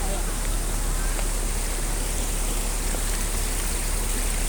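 In Chongqing Park, water streams down a stone staircase with a continuous close splashing rush, a few faint tapping drips standing out now and then against the steady flow.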